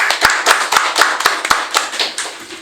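Clapping for a guest speaker on a history podcast about Black Friday (Jumat Kelabu): a small group claps in sharp, distinct, fairly regular claps, close and loud, with no talking.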